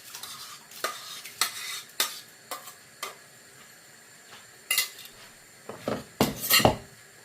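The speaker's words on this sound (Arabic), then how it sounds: "الآن بنحط الرز بعد ما فار الماء غلي" Rice goes into a pot of boiling water in a home kitchen and is stirred, with scattered metallic clinks and scrapes of a spoon against the pot at irregular intervals over a faint simmer.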